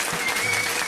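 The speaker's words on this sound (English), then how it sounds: "give him a round of applause for trying though" Applause from the crowd at a pub trivia quiz, a brief, steady patter of many hands with a faint voice mixed in.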